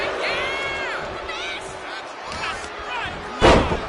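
A wrestling snapmare followed by a slam in the WWE 2K25 video game during a no disqualification match, landing as one sharp, loud impact near the end over steady arena crowd noise and commentator talk.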